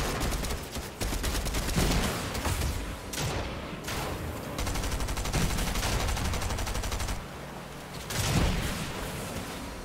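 Dense, continuous gunfire rattles through a video game firefight, with rapid bursts and heavy shots overlapping throughout at close, loud range.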